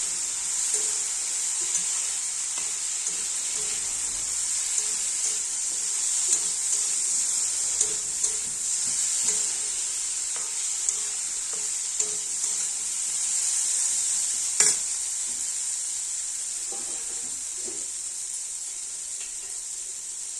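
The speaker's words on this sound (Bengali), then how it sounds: "এবার ভেজে রাখা সোয়াবিন দিয়ে দিচ্ছি। এবার ভালো করে কষিয়ে নেবো" Fried soybean chunks and potatoes cook in a pan with spices, a steady high hiss of sizzling oil running throughout, with faint scattered stirring knocks and one sharper clatter.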